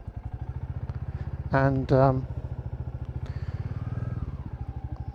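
A Royal Enfield Classic 350 single-cylinder engine pulls up a long, fast mountain road with a steady, rapid thump heard close and continuous throughout. A voice briefly speaks over the engine.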